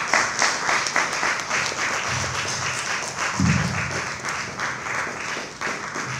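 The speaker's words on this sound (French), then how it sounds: "On applaudit s'il vous plaît." Steady audience applause fills a cross-border tourism conference hall in Brazzaville, Congo, sustained, moderately loud clapping from many hands with faint voices underneath.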